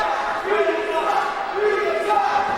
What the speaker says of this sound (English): Crowd not liking Mark Manson very much, letting him know about it